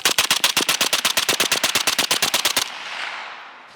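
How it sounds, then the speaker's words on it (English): Rapid bump-fire burst from a suppressed SIG 550-style rifle, roughly twenty evenly spaced loud shots in about two and a half seconds, then a fading echo and quiet. "let's see if we can bump fire it"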